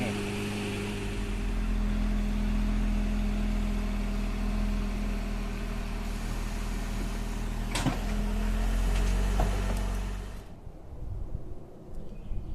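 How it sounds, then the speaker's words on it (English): A vehicle engine idles and hums steadily while backing a camper up to the hitch receiver. There are a couple of clunks near the end, then the engine cuts off and the scene goes quieter. "So now I'm backing up the camper close to the hitch receiver"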